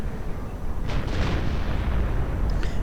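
Artillery shells firing and exploding in a real-time strategy game battle, with a dense rumbling barrage swelling after the first second and holding steady to the end, followed by a brief sharper crack.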